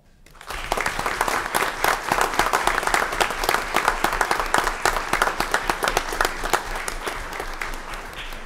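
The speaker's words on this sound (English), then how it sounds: "I think they deserve one more very, very well-earned round of applause." A school board meeting audience breaks into a long round of applause, the clapping starting abruptly and staying thick and steady, with no speech over it.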